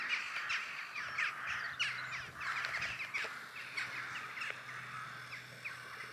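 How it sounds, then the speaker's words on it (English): Crows cawing around a churchyard in Dumfries and Galloway, Scotland, several harsh repeated caws from a few birds overlapping at middle distance, with wind noise beneath and no talking. "there's lots of crows around churches"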